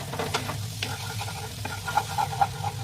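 Onion shallow-frying in butter gives a soft, steady sizzle, broken by light scraping and stirring strokes of a spatula in the pan.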